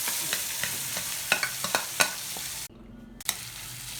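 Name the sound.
fresh turmeric and ginger sautéing in sesame oil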